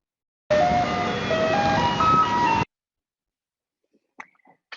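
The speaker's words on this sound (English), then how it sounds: "By encountering the vibrations emitted by moving ice cream trucks" An ice cream truck's jingle plays a bright melodic tune for about two seconds and then cuts off abruptly, followed by silence and a few faint clicks.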